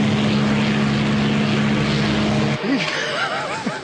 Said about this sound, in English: I take the airplane and tumble it end over end through the sky in a big old corkscrew